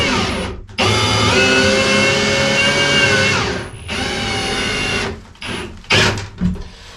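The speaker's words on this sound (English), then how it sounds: "we will go ahead and sink screws in here absolutely on every stud." Power drill driving screws into the wooden studs of a shower stall in an off-grid cabin, several loud whirring bursts of rising and falling pitch separated by brief pauses, close and without talk.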